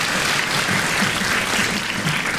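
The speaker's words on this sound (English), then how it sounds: "round of applause for Mimi." Dense, steady audience applause fills a school winter concert hall, a continuous close wash of many hands clapping without pause.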